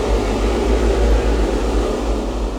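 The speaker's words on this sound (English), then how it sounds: "Really cool, super creepy texture, and I've used that just kind of as like a rising whoosh" Dark, creepy drone texture from a cinematic sound library, a dense rumbling bed with airy noise above that swells steadily like a slow rising whoosh, loud and continuous with no voices.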